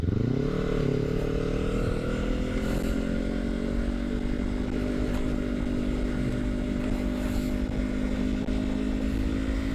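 A motorcycle ridden on a road during a solo trip toward the southern coast, its engine droning steadily and loud throughout with a slowly rising pitch at the start, no talk over it.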